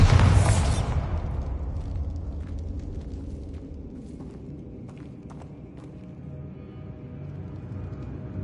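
Bombarda spell explosion in Hogwarts Legacy, a single loud blast at the start that decays into a long low rumble with scattered debris clatter and faint footsteps fading over several seconds.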